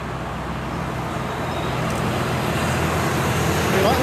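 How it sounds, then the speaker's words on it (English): Steady roadway drone of a heavily loaded Barnsley truck labouring up Rush Hill on the A37 near Farrington Gurney, with continuous engine and tyre noise building slightly louder toward the end. "Is that a Barnsley truck coming up the hill?"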